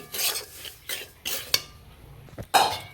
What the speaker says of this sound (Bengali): ঘন ঘন খুন্তি দিয়ে নেড়ে ভালো করে নেড়ে নিতে হবে নাহলে নিচেটা লেগে যেতে পারে